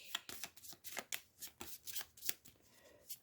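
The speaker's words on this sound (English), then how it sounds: "So let's shuffle our Terror deck." A deck of cards for the board game Final Girl gets shuffled in a quiet, close series of crisp riffling flicks, roughly a dozen short bursts in an uneven rhythm.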